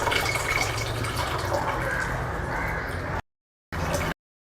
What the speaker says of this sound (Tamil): இப்போ புளியை ஊற்றிக்கலாம்.